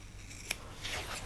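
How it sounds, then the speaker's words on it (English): Long pair of scissors snipping through thin 2mm grey foam at a fly-tying bench: one sharp close snip followed by a softer slicing rasp, with no talk. "Best to cut it with a long pair of scissors."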